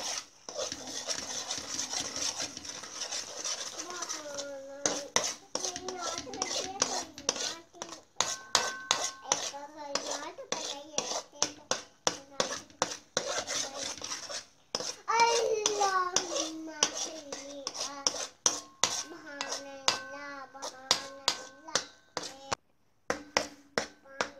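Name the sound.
stirring egg mixture in a pan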